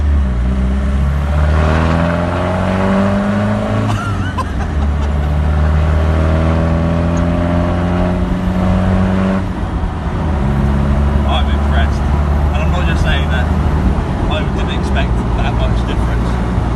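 A Land Rover Defender fitted with a Demand exhaust accelerates hard from inside the cabin, its engine note climbing through rising revs, dropping at a gear change and climbing again, while people talk over the drone.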